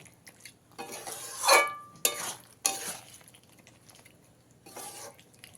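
A spoon stirs and scrapes mixed vegetables in a pan for a restaurant-style vegetarian dish, with a few sharp clanks against the metal between softer scraping strokes, close by and without speech.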